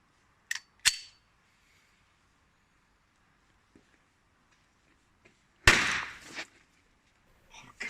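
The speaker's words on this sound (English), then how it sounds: "I got this expired juice brick and tested it against the blank pistol." A blank pistol is fired at an expired juice brick: two quick sharp cracks, a long pause, then a louder burst with a brief rushing, spraying tail, all close up in a quiet space.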